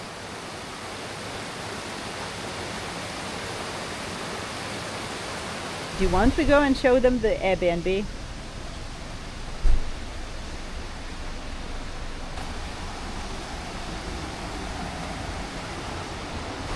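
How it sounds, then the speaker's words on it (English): A river flows past an Airbnb in Portugal in a steady, broad, close rush of water that continues throughout, with a short spoken question partway through. "having your coffee by the river and falling asleep to the sound of the water"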